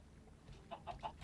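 Chickens in the Minecraft video game give three quick, faint clucks in a row, spaced about a beat apart, with no talking over them.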